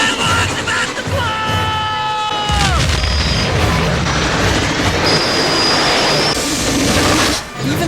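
A steam train in a Back to the Future film scene hurtles along amid loud rumbling, booms and shrill whistling tones sliding in pitch, a dense, chaotic roar throughout.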